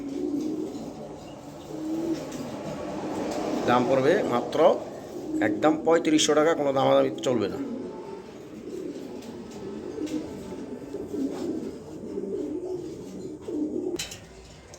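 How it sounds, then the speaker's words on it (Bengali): A pair of top-quality racing pigeons, a male and a female, coo softly and repeatedly close by while someone talks steadily over them. "এই যে দেখেন দুইটা কবুতর"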